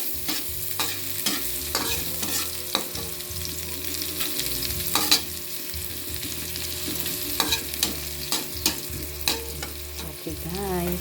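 Ginger and aromatics sizzling and being stirred in a pan for tilapia, a steady close fry with repeated scraping strokes of the utensil and no talk over it.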